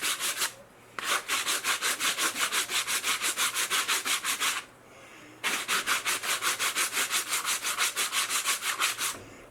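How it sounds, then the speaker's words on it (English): Rapid rhythmic sanding strokes of a belt-sanding block against wooden paint sticks, close and loud, in two long bursts separated by a brief pause, with no voices. "Use it as a sanding block."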